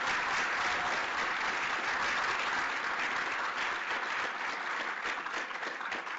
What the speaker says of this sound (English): let's give Steve Perry a big round of applause